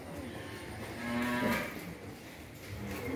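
Cattle and calves on a Long An breeding farm let out a single drawn-out moo that swells and fades, heard at moderate distance against steady farmyard background noise.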